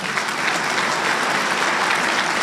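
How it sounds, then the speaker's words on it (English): A roomful of dinner guests applauds at a military installations and logistics awards dinner, a loud, dense and unbroken wash of clapping that holds evenly throughout. "So round of applause for all of our..."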